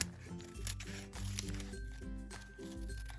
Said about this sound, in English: I'm actually going to cut these open because I want to try and